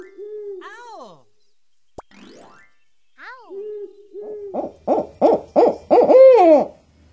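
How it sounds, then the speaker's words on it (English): An owl gives a series of clear, close hoots: a few drawn-out calls with pauses, then a quicker run of repeated hoots that grows louder toward the end. "Owl."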